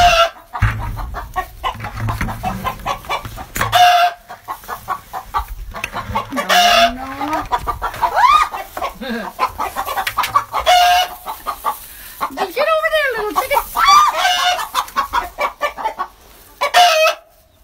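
Chickens cluck steadily and close by, a busy flock in an early-morning coop with a rooster crowing now and then among the overlapping calls.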